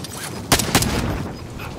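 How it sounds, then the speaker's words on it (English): Two sharp, close gunshots crack out one after another within a quarter second in a Call of Duty: Modern Warfare match, followed by a lingering rumble of game ambience. "Receiving hostile fire."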